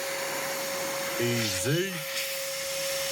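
An air nozzle blows a steady loud hiss across a resurfaced GameCube disc to clear off cleaning liquid, holding constant throughout while a person speaks briefly over it.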